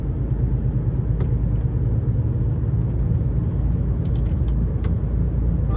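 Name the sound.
road traffic, cars passing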